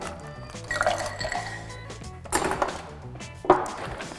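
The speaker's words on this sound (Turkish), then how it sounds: "Sonrasında buzla birlikte karıştıracağım." Pistachio syrup drink stirred with ice in a glass: clinking ice cubes and liquid sloshing, with sharper clinks at intervals over a soft wet background, close and moderately loud.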